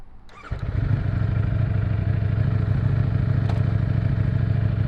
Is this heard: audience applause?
no